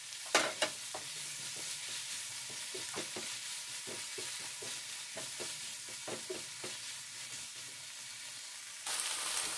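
Strips of poblano chile fry quietly in a pan, a soft steady sizzle broken by light, irregular stirring clicks and taps, with a brighter hiss rising sharply at the very end.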